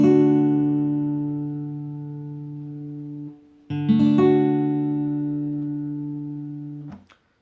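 An acoustic guitar chord is strummed on only the highest four strings and left to ring and decay for several seconds, then struck once more and allowed to ring before being cut off, heard alone and close.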